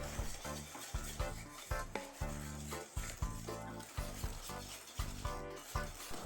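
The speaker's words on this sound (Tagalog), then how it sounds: "Whisk again until completely combined." Egg yolks, sugar, cornstarch and flour are whisked in a bowl, making a rhythmic series of scraping, clinking strokes against the bowl, close and fairly quiet, with no voices.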